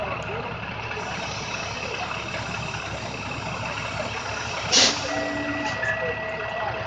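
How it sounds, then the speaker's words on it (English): A city bus's air brakes let out one short, sharp hiss partway through, over the steady drone of an idling engine and a faint tonal beeping. "30 making air brake sounds."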